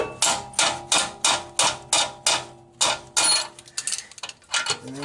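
A ratchet loosening the downstream oxygen sensor on a 1999 Toyota Camry, giving a run of about eight evenly spaced, sharp metallic clicks followed by quicker, irregular ratcheting, close up.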